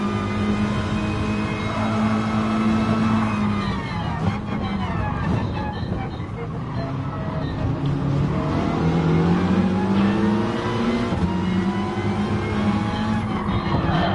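Race car engines in a Gran Turismo Sport online race rev and shift continuously, a loud, steady roar of rising and falling pitch as throttle is applied, with no voices.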